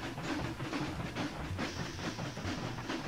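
A train rolls along rails in the transport-building game Mashinky, giving a steady, fairly loud rumbling hiss with faint repeating clatter throughout, with no talking over it.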